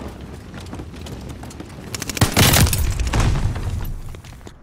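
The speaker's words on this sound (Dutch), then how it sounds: "Daarachter zie je het vuurwerk al." Fireworks go off in the shooter Call of Duty Vanguard, a burst of crackling booms and sharp pops rising mid-clip over quieter game ambience, fading toward the end.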